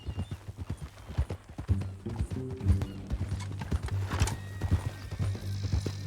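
Steady clip-clop of horse hooves on hard ground in the video game Red Dead Redemption 2, a repeated rhythmic plodding, with a brief horse snort or whinny partway through.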